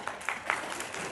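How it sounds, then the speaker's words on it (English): Brief scattered clapping from a convention panel audience at an anime podcast event, a few light claps over room noise. "Clap if you're not a fan of Dressrosa."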